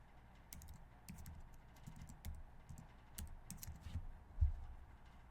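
Fast, uneven typing on a computer keyboard, soft and close, with scattered clicks and a few louder key strikes over quiet room hum and no voices.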